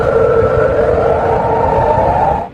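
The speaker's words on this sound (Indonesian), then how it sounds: "Kuwait menyalakan sirene peringatan." A loud, sustained air raid warning siren in Kuwait wails on a steady tone, slowly sliding in pitch before cutting off abruptly.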